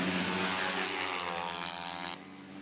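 A Yamaha flat track racing motorcycle at a Mildura, Victoria dirt track meeting, its engine roaring loud and close as it accelerates, a dense raspy drone that drops slightly in pitch near the end, with no talk.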